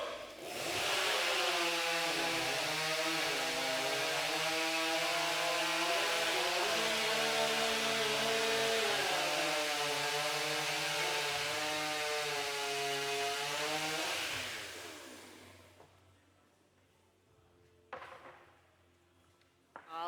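A STIHL stock saw chainsaw cuts through timber at a timbersports stock saw championship event, a loud, close, revving snarl that surges repeatedly for about fourteen seconds before cutting off. Faint bumps and crowd sounds follow.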